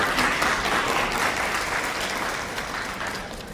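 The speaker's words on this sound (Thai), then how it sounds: "ขอให้ปรบมือให้กำลังใจท่าน" Sustained applause from a large audience at a chamber of commerce president election, thick and even, fading slightly toward the end.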